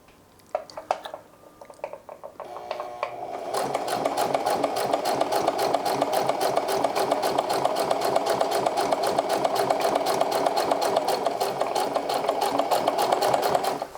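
A sewing machine stitches a hem on denim jeans, a few hesitant clicks and starts before settling into a steady, fast, rhythmic chatter of the needle that runs evenly and close for about ten seconds.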